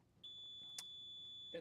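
A steady electronic buzzer tone sounds at a fixed pitch for over a second, faint and even against quiet room noise, with a brief click partway through and no talk.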